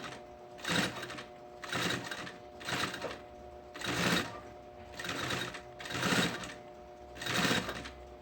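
A sewing machine stitching a backpack panel seam, running in seven regular bursts of rapid whirring with short pauses between, close and clear, no talking.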